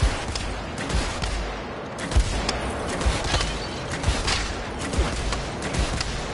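Rapid automatic gunfire from a video game shooter, Blood and Truth, loud and sustained in dense overlapping bursts with sharp periodic bangs throughout.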